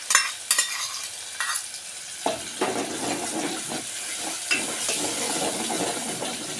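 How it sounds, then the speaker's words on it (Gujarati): Onion, tomato and spices cook in a pan for elephant-foot yam curry, giving a steady sizzle and hiss with occasional stirring scrapes and clicks, close and moderately loud without any talk. "ડુંગળી ટમેટો ગયો એટલે પછી મસાલા નાખી દીધા હજી મસાલા ભરે જાય ત્યાં સુધી થોડીક વાર હજી પાકવા દીધું"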